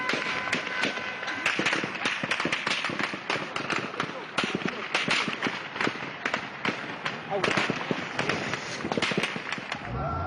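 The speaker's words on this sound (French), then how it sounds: "L'armée réplique à l'arme automatique." Rapid bursts of automatic weapon fire from the army during the Benghazi uprising in Libya, dense crackling volleys repeating throughout, loud and continuous with shouting or voices mixed in.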